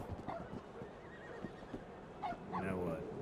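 In a video game, a horse answers a whistle with a neigh, a quavering whinny with hoof clip-clops, heard faintly under a game soundscape with other animal calls nearby.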